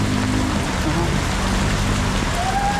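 Steady, dense rain pours down close by on flooded streets, a constant hiss of drops hitting surfaces with a low rumble underneath.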